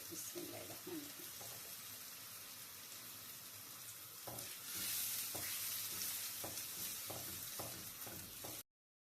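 Four eggs sizzle and get stirred in a pan with onion and green chilies, a steady frying hiss with occasional scraping stirs, growing louder midway before cutting off abruptly.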